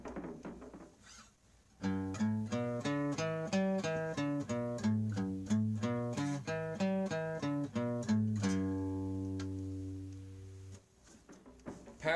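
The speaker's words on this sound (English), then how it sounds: "A common scale used in African music is the major pentatonic, which sounds like this." Melodic instrument plays an African-style major pentatonic scale, a steady run of distinct plucked or struck notes that ends on a long ringing tone, heard alone and close.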